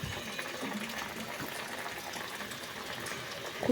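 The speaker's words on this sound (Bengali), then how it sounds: "এবার চলো আমি ভাজতে শুরু করি" Biscuit dough with sugar fries in hot oil, a soft, steady bubbling hiss at low volume with a small splash near the end and no talk over it.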